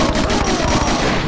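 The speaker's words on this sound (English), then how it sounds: "Pistol is quite effective." Pistol fire in the Brutal Doom Project Brutality mod: loud, rapid shots repeat in a quick, even rhythm over dense, booming background noise.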